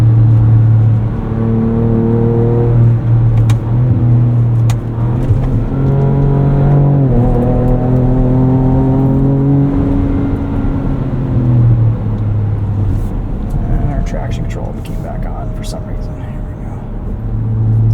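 A 2024 Ford Ranger Raptor truck accelerates on a drive, its engine note climbing through rising harmonic sweeps and shifts, loud and close from inside the cab, with occasional faint voices and clicks beneath.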